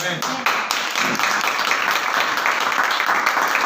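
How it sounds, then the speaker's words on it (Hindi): A church congregation claps in applause for God during a Hindi worship service, a dense steady wash of many hands filling the room, with a voice calling out over it. "परमेश्वर के लिए ताली देंगे भाई बहन"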